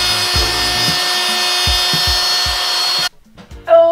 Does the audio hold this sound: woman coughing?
no